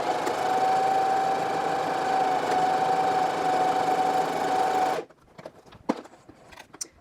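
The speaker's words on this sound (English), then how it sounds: "once the buttonhole's sewn on the machine" A sewing machine stitching a buttonhole on a skirt runs loud and steady with a constant whirring drone for about five seconds, then stops, leaving a few faint handling clicks and rustles.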